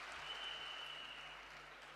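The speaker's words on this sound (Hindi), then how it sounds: "तो एक बार जोरदार तालियां देश के प्रधानमंत्री नरेंद्र मोदी जी के लिए।" An audience applauds at a direct sellers' gathering, a faint, continuous rush of clapping that sounds distant and holds steady for about two seconds.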